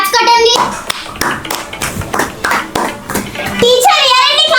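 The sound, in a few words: class clapping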